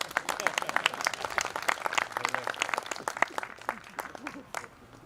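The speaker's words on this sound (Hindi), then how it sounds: "ताली बजा सकते हैं।" An audience at a Jeevan Vidya Parichay seminar session in Palitana, Gujarat, breaks into brisk, sustained clapping that fades toward the end, with a speaker's voice faintly present.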